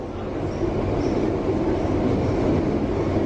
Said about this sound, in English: There's another loco there.